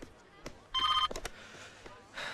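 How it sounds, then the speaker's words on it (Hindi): A telephone rings in brief electronic bursts amid clicks and knocks, with a voice speaking faintly nearby. "फोन बज रहा है।"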